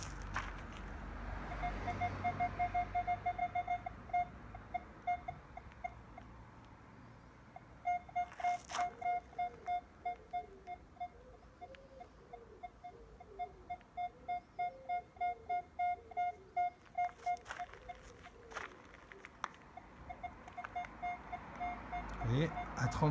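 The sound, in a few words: Minelab Equinox 800 metal detector signal tone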